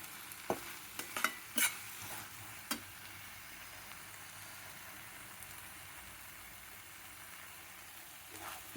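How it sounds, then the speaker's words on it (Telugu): Gongura leaves frying with urad dal and salt in a pan, a quiet soft sizzle beneath a few sharp stirring scrapes and taps of a spoon early on, then an even low hiss. "మినపగుళ్ళు కొద్దిగా అన్నీ వేసి, ఉప్పు అంతా వేసి, ఆకుకూర గోంగూర వేసి వేయించినానండి"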